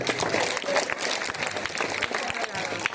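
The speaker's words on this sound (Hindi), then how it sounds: "धन्यवाद करने के लिए सबके लिए भी जोरदार तालियां।" An audience in a Hindi-language school gathering claps for everyone, a steady, dense patter of hands with some voices mixed in, moderately loud throughout.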